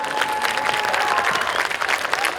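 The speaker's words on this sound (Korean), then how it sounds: "다시 한 번 더 큰 박수 부탁드리겠습니다" Festival audience applauds a university taekwondo demonstration team at an outdoor opening performance, a loud, dense burst of clapping with a faint tone running underneath.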